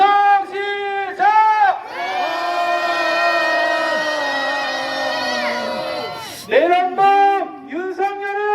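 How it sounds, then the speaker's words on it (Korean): A crowd at an outdoor street rally in Jeonju calling for a president's removal lets out a long, loud sustained cheer and roar, framed by rhythmic chanted slogans before and after. "함성 시작."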